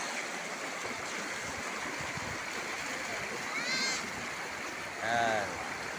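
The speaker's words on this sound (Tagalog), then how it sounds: "Magandang batis." A mountain stream in Tanay, Rizal flows steadily outdoors as a broad, constant rushing wash, with a few faint chirps rising briefly above it.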